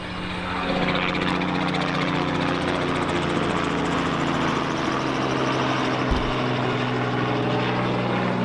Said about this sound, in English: And that is a ride at the fair.